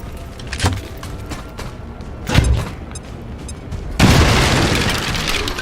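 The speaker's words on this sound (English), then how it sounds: "we're just gonna grenade him" An XCOM 2 grenade goes off as a loud, close boom with a deep thud, followed by a broad, sustained roaring rush, after a couple of earlier dull impacts.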